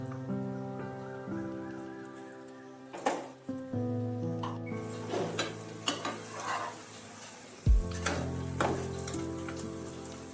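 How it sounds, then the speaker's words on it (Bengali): A dal and vegetable pancake fries in a pan with a soft, steady sizzle and a few stirring scrapes, mostly beneath louder background music. "দেখো এই পিঠটাও একটু বেশ ভাজা ভাজা হয়ে গেছে।"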